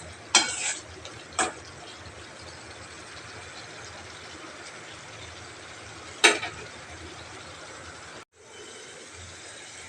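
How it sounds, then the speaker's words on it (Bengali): Dried fish (shutki) sautéing in a pan, a steady broadband sizzle running throughout with a few sharp scrapes of stirring near the start and one more midway, then a brief drop before the frying hiss resumes. "এখন আমি শুটকিটা কষাচ্ছি"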